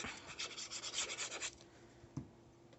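Glue being spread by hand over a sheet of paper while making a scrapbook album: a soft, close rubbing and brushing texture in repeated strokes that fade after a second and a half, then one small tap.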